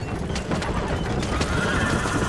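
A horse neighs and hooves clop amid wagon and gunfight commotion in the Western video game Red Dead Redemption, the whinny rising over a dense, rumbling bed of hoofbeats and noise.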